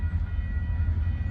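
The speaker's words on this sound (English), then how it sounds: "That railroad crossing sounds interesting." A train passes a railroad crossing in Greensburg, Indiana, producing a continuous low rumble of rolling cars, steady and fairly loud with no distinct horn.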